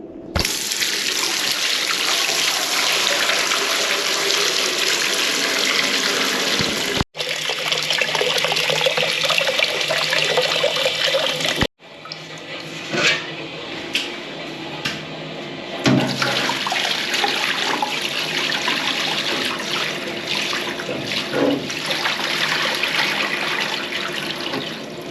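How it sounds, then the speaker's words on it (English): Buckets of water poured down a urinal drain that had been blocked: loud rushing, gurgling water in several long bursts, broken by a few abrupt gaps, then splashing and trickling as it drains. "we're going to put a lot more buckets of water down it just to make sure that it is flowing nicely"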